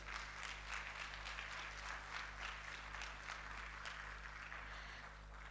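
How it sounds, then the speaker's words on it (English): Applause from an audience at the Huawei ICT Competition 2024 event, a steady wash of clapping, faint and distant, over a constant low hum. "All of you deserve a warm round of applause"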